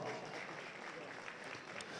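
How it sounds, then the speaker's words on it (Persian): An audience at a fight event claps steadily, a dense wash of applause heard fairly faintly throughout. "با افتخار شیرشاه مبارز و هر دو مبارز کف بزنین دوستا"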